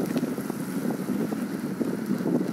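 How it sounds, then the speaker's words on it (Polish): Wind gusts and rumbles steadily against the microphone, a broad rushing noise with no voices. "Wiatr."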